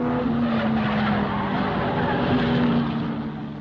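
Racing cars scream past on a circuit in a 1962 Grand Prix-style race, a loud continuous engine roar with a sustained high tone that swells and fades slightly near the end.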